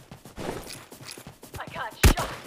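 Incoming bombardment in the Omega Legends shooter, with a scatter of small pops and clatter building to one sharp loud blast near the end, heard close and alone.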